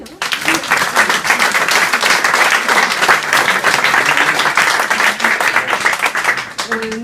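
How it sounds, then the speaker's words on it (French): Steady, enthusiastic applause from a crowd at an art exhibition opening, loud and continuous for several seconds. "donc on l'applaudit aussi"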